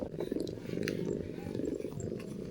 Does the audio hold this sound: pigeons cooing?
no